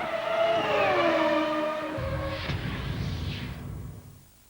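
Onboard a Ferrari 360 Modena GT race car at Jarama during an FIA GT round, the engine roars at high pitch then drops off as the car brakes, followed by rumbling and a fading whoosh.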